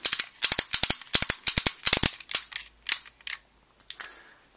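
Winding a Foodroid wind-up toy by twisting its head part counterclockwise gives a close series of quick ratcheting clicks in bursts, tapering to a few faint clicks at the end.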